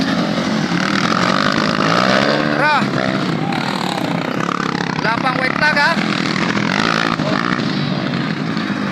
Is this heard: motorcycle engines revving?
yes